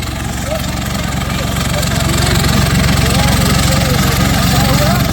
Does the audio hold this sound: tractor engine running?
yes